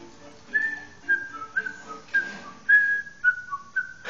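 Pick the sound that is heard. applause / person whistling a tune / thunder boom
person whistling a tune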